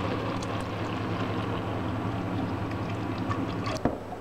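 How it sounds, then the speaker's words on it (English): Rice milk pours steadily into a pot of Norwegian rice porridge whose water has nearly boiled away, a continuous close liquid splash and gurgle that ends with a brief clunk near the end. "Now the water has boiled almost entirely into the rice, so it's time to add the milk."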